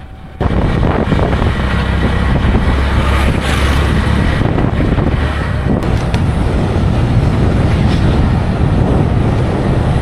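The Jayantika Express on the Kulaura–Shahbazpur line runs with a loud, continuous rumble mixed with heavy wind buffeting, and no voices.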